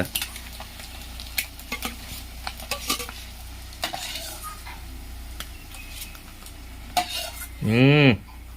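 Soft crackling sizzle of eggs frying over a low flame, with scattered scraping clicks of a utensil stirring in the pan, ending with a brief louder rising squeal near the close.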